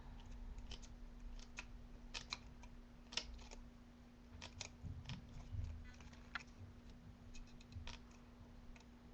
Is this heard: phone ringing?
no